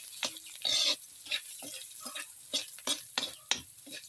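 Dried shrimp sautéing in a pan for pansit bato, with bursts of sizzling and stirring clatter in an irregular rhythm, close and fairly quiet.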